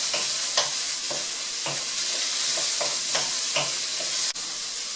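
Chicken curry sizzles in a pan as it is swirled around, a steady frying hiss broken by several soft scraping stirs and a sharp knock near the end.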